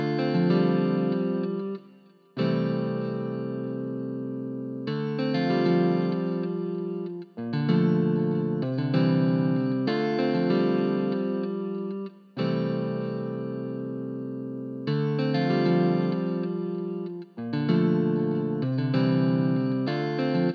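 A looping afrobeats-style guitar melody programmed with stock plugins in a music production session, played alone with a chorus and echo-like shimmer, phrases of plucked notes repeating in even two-and-a-half-second cycles with brief gaps between.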